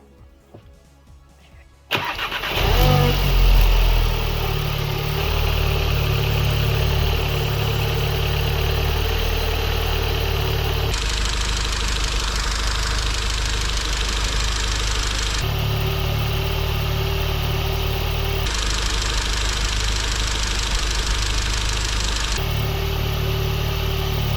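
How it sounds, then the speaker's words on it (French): An Audi S3 8V with the 2.0 TSI EA888 engine cranks and catches about two seconds in, then settles into a loud, steady, close-up idle that hums on evenly to the end. "on va pouvoir démarrer pour voir si tout va bien"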